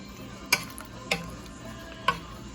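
Pears cooking in a pot, stirred with a utensil that knocks sharply against the pot three times at uneven intervals, close, over a faint background hiss.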